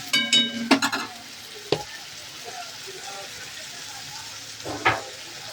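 Masala and chutney frying in a pan, a steady close sizzle with stirring scrapes at the start, a few knocks, and a soft voice speaking over it.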